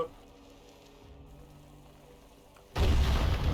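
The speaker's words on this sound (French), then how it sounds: "il fait des explosions magiques lui carrément" A magic explosion in a video game arrives as a sudden, loud, booming burst after a quiet stretch and keeps rumbling to the end.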